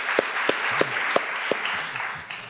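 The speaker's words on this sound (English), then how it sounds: "that deserves a clap" Audience at a talk on cannabis research breaking into brief applause; a handful of sharp, separate claps spaced irregularly over a fairly close room ambience.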